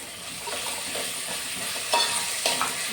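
Tomato sauce goes into a hot pan of chicken fried rice, a continuous close sizzle and fry with brief scraping stirs and small bursts of hissing.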